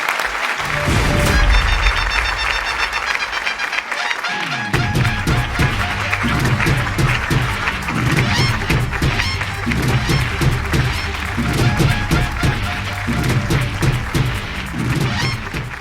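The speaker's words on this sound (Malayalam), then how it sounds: "നന്നായിട്ട് കൈയടിച്ചോ." A television studio audience claps. The applause builds into sustained, dense clapping that fills the room and continues evenly to the end.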